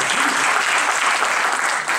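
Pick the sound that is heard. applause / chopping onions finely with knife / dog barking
applause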